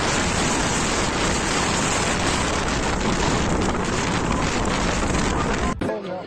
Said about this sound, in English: Large waves crash over a seawall.